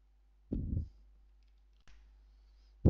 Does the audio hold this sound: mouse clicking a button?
yes